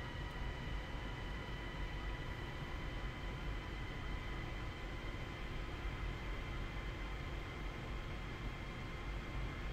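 Steady electric train engine drone in Train Sim World on a Metropolitan rapid transit line climbing uphill, a continuous, even hum and rumble with faint tonal whine, unchanging throughout and without speech.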